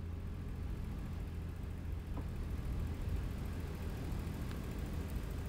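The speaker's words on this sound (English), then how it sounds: "Listen how quiet this engine brake is." A truck's engine brake on a downhill grade in American Truck Simulator, heard as a faint, steady low engine drone with no sharp changes.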